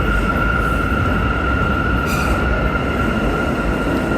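Subway train at the Columbus Circle station platform, a steady loud rumble with a sustained high tonal whine from wheels or motors throughout, a brief brighter burst of hiss midway, no voices.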